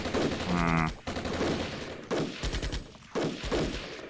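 Gunfire from battles in the Armored Brigade video game, with several dense bursts of rapid shots and volleys that rise and cut off over a few seconds, loud and without talk.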